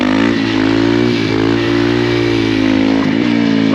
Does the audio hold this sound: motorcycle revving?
yes